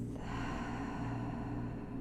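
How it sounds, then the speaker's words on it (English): A slow, audible exhalation through the mouth during a guided full-body relaxation exercise, a steady breathy rush lasting about two seconds, close and fairly soft with a low tonal hum beneath it. "breathing in through the nose and out through the mouth"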